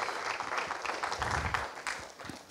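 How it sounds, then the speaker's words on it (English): Church congregation clapping and applauding together during a service, a dense, steady wash of hand claps that stays fairly loud throughout with slight swells. "Let me get some mamas clapping up in this place right now in Jesus' name."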